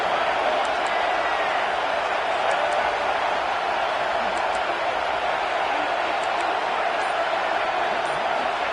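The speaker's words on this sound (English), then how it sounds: "Looking to this crowd, and they are delivering energy on this big 3rd down." Broad, steady stadium crowd roar from the College Football 26 video game, a dense wash of cheering and noise on a big third down, running continuously under a commentator's voice.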